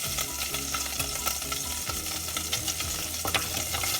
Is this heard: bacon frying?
yes